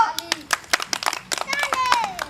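Children clap their hands in scattered, uneven bursts during a Republic Day (26 January) celebration, close by, mixed with children's voices and talk.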